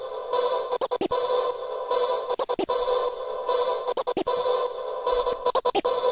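Ambient vocal chop sample from a 2Hollis-style beat, looped several times with heavy reverb and long decay, steady sustained wash broken by short rhythmic gaps and stutters, no talking.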